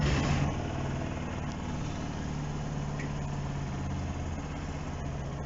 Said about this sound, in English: Then you hear the fuel pump. Okay, and I can start it up.